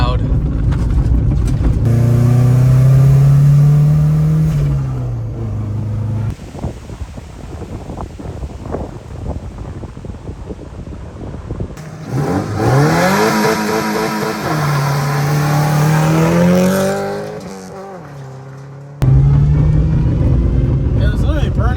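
A home-made turbo Subaru climbs a jeep trail off-road, its engine revving loudly in rising and falling surges with a droning, whining tone and wind buffeting the microphone, while people talk over the noise.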